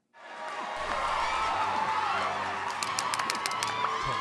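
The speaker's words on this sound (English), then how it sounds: "Let us give our graduates another round of applause." Applause for graduates at a virtual commencement ceremony rises quickly into a steady, dense wash of clapping that fills the whole clip, loud and close, with no talking over it.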